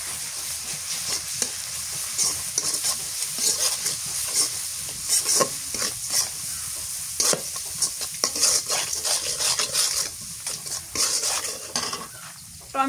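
Spice paste of turmeric and chilli powder being stirred and fried in a pan in a rustic village kitchen, with steady sizzling and repeated scraping of a utensil against the pan running throughout.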